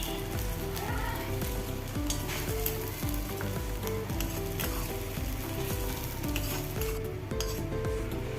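Mango and ginger pieces sizzle and fry in sesame oil for a pickle, with continuous crackling bubbling and scraping stirring strokes close by, busy and unbroken throughout with no talking.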